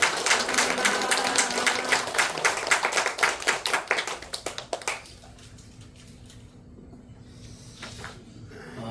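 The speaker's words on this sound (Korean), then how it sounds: "감사의 박수 올렸으면 좋겠습니다" An audience at a Korean church gathering applauds with dense, rhythmic clapping that fades out after about five seconds, leaving a quiet room with a few stray sounds.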